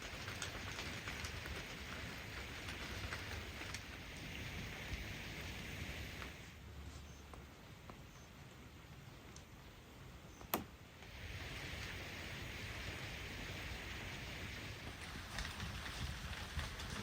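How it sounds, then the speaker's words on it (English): Rain falls steadily at a lakeside campsite at Kettle Pond, Vermont, a soft, even patter of drops on surfaces that briefly thins midway, with one sharp knock, heard faint and alone without voices. "Raining."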